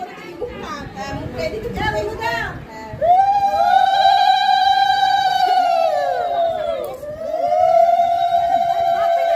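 Women ululate (ulu) at a Bengali ritual blessing a daughter-in-law, a loud, sustained high trilling cry that wavers and breaks briefly before swelling again, rising out of chatter and children's voices.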